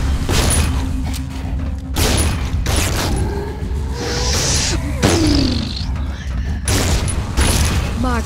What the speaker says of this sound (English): my guns go boom, boom, yo, guns go blow